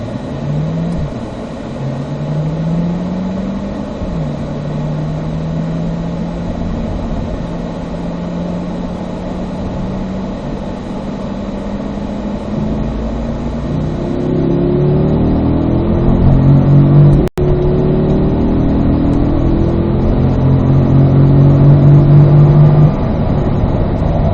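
A car pulls away and accelerates hard around the Spring Mountain North Course race track, the engine note climbing through rising sweeps and gear changes, loud and close with no talk.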